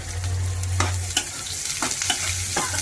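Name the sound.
onions, chilies and garlic frying in a pan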